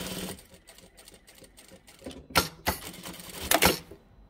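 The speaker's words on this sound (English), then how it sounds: "back stitch at the end here" A sewing machine back stitches at the end of a seam on a tea towel topper, with short bursts of stitching and a few sharp mechanical clicks, close and moderately loud.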